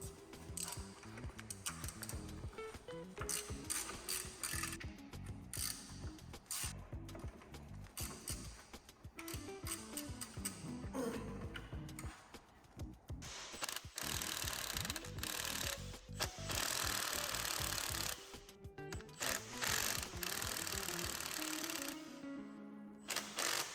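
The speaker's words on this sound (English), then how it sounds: "These 3 bolts here we're gonna have to remove, and then we can put the spindle out to get the drive shafts out." Ratchet loosening bolts on the spindle and brake assembly of a car during a 1.8T DSG transmission swap, with rapid clicking and mechanical clatter throughout, close and steady with no talk.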